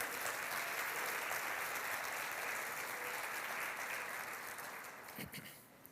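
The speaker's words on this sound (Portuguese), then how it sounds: "Você pode dar um aplauso ao Senhor por isso?" A church congregation claps together in a steady, dense wash of applause that fades toward the end, with a brief voice near the close.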